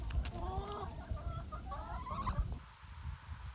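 Backyard chickens cluck and murmur in a series of close, overlapping calls for a few seconds, then fall quiet, leaving low background rumble.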